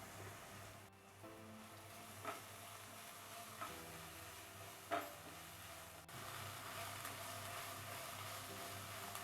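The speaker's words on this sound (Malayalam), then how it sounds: "നല്ലപോലെ ഒന്ന് ഇളക്കി നല്ലപോലെ ഒന്ന് വഴറ്റിയെടുക്കണം." Onions sauté with a little salt in a pan for an egg pepper masala, making a faint, steady sizzle with a few soft stirring knocks from a utensil, and no voices.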